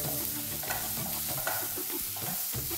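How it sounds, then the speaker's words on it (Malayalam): Boiled macaroni is stirred in a hot cooking pot over gas, giving a close, steady frying sizzle with scraping and knocking from the spoon against the pot and no voices. "ആ സമയത്ത് നമ്മളിതൊന്ന് ഇളക്കിക്കൊണ്ട് നിൽക്കണം."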